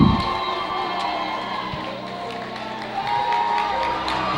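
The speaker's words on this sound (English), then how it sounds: "It's one of the better crowds we've had this year, and by far the most vocal at this point." A vocal crowd cheers and shouts at a boys high school basketball game in a gym, a steady roar of many voices with whoops and occasional sharp sneaker squeaks rising again toward the end.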